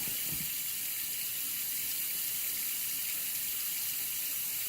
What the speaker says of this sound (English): Now I'm gonna wash my grapes and put them in my salad.